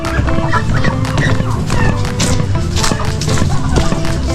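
Loud, dense poultry noise up close, with overlapping clucks and gobbling calls from several birds crowding together.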